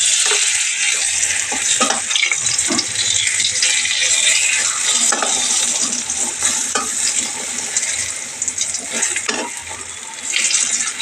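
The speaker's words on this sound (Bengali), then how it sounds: "এখানে বেগুন ভাজা হচ্ছে" Eggplant slices fry in a pan of hot oil at home, giving a steady, loud sizzle with scattered crackles and a few stirring knocks throughout.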